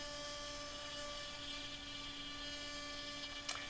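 A CNC router machines the front dado into a wooden side panel for a Slovenian beehive, giving a steady whirring hum with tonal whine throughout and a brief sharp burst near the end; no talk.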